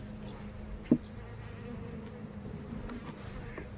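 Honey bees hum in a steady low drone around an open hive during an inspection, faint and continuous, with one brief louder buzz as a bee passes close.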